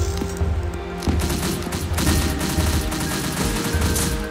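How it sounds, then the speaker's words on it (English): Rapid video-game gunfire crackles in dense overlapping bursts, loud and close, like a sustained fusillade from several weapons with no pause. "Been shot at."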